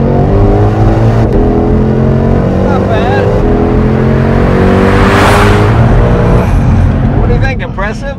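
A car accelerates hard, its engine revving loudly and climbing in pitch through the gears at close range, with wind noise rising and people briefly talking near the end.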